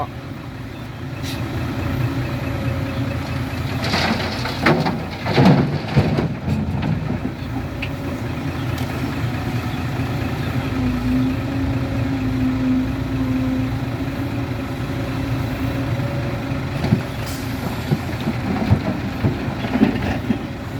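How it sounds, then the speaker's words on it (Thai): A six-wheel dump truck reverses through knee-deep water on a dirt site. Its engine rumbles steadily and water sloshes and splashes loudly throughout, with a few sharper clanks along the way. "ถอยมาเลยครับ ถอยมาเลยฮะ ลุยน้ำเอาเลยหกล้อ"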